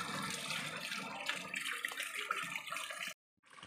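Water runs steadily from a tap or pipe at a house, a continuous splashing rush heard alone for about three seconds before it cuts off abruptly.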